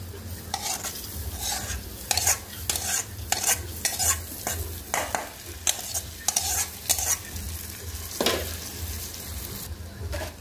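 Rice and mung dal fry with onion in oil while being stirred, giving a sizzle under repeated rhythmic scraping and clinking strokes of a spoon against the pan, close and fairly loud.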